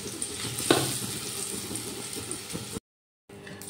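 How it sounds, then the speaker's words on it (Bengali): Pumpkin pieces fry in oil in a wok, giving a soft steady sizzle with stirring scrapes and a sharper clatter early on, before a brief silence near the end. "নুন দিয়ে কুমড়োগুলো ভালো করে ভেজে নেব"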